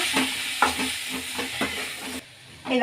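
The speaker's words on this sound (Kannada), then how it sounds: "ಈಗ ಬಟಾಟೆ ಸೇರಿಸ್ಕೊಳ್ಳೋಣ ಬಟಾಣಿ ಕೂಡ ಒಂದು ನಿಮಿಷ ಫ್ರೈ ಮಾಡಿಕೊಂಡು ಸಾಕು" Potatoes and peas frying in a pan, a close continuous sizzle with repeated stirring scrapes, briefly dropping away near the end before the frying sound returns.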